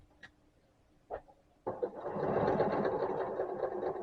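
After a couple of faint clicks, a sewing machine starts up and runs steadily, stitching a quarter-inch seam on a Halloween trick-or-treat tote, a close, even mechanical whir lasting several seconds.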